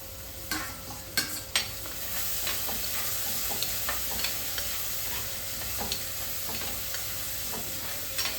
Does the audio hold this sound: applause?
no